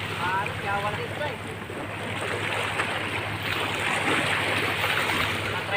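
Sea waves wash at the shore at Barangay Balete, Calapan, Mindoro, a soft, steady surf mixed with wind buffeting the microphone, while faint voices murmur nearby.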